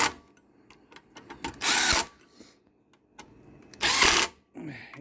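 A power drill tightens bolts on a log splitter with a Briggs and Stratton Quantum 6.5HP engine, two loud bursts of whirring among softer clicks and handling noises at close range.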